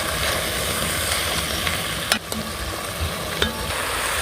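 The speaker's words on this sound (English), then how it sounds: "Let's add in our chopped onion and chopped peppers. We're just going to let these cook until they soften." Chopped onion and peppers fry in a pot for one-pot cheesy ground beef goulash, a loud steady close sizzle with a couple of sharp spoon clacks against the pot, no voices.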